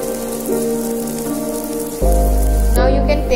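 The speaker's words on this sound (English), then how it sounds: "You have to fry it for 5 minutes or more than 5 minutes." Soya chunk kebabs sizzle in hot oil in a pan, a steady crackling hiss that grows louder and denser partway through, continuous with no talk.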